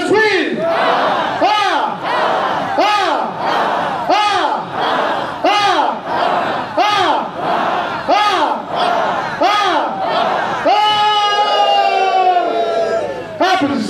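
A church congregation at a rapture feast service chants rhythmic, repeated shouted acclamations to God in unison, each burst loud and close with a steady pulse, ending in a sustained collective cry.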